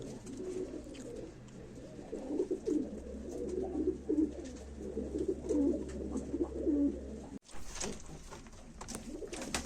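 Pigeons coo in low, rolling bursts at a live pigeon auction in Ankara, several birds close by calling over one another in a steady indoor murmur, broken by a brief thump near the end.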